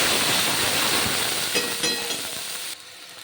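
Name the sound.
sizzling as spice paste is fried for fish curry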